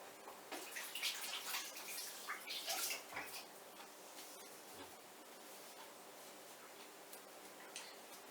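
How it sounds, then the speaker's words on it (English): Running water pours steadily over a pair of hands being rinsed off after peeling a juicy mango, a soft continuous splash with brief louder bursts early on, with no talking. "I'm going to rinse off my hands"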